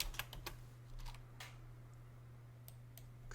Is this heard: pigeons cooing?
no